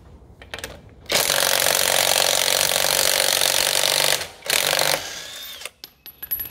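A power tool loosens the lug nuts on a car's rear right wheel, which is being removed to replace a noisy wheel bearing. It gives one loud, close, sustained mechanical burst of about three seconds, then a brief second burst after a short gap.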